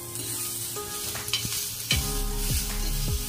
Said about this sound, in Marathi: एका साईडला मी हे आलं आणि लसूण टाकून घेते, ते सुद्धा चांगलं फ्राय करून घेऊया आपण